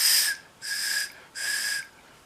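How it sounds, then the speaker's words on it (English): Three long, bright blasts on a toy control whistle for a Schuco Command Car, each about half a second, evenly spaced, close and fairly loud with no talking. "You take your whistle and you point it there. Look at that, the whistle makes it go."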